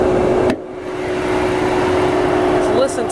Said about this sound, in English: Just listen to that motor just purring like brand new